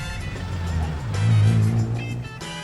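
Interior rumble of an Uber car driving through London, a steady low engine and road drone that swells slightly midway, with no talking.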